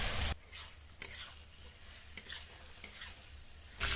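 Spice paste with chilli powder and water is stir-fried in oil, a soft steady sizzle broken by several scraping strokes of a spoon against the pan, louder bursts at the start and end.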